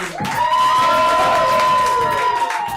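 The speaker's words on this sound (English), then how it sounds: "Keep clapping for Lourdes Ione." A comedy show audience claps and cheers loudly and steadily, with whoops and shouts rising over dense applause throughout.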